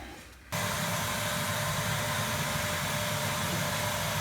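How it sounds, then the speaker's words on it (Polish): A vacuum cleaner switches on abruptly and runs with a loud, steady broadband whoosh and hum, used to bleed air from an MHI 1800 water pump. "Włączamy odkurzacz i, i patrzymy co się będzie działo."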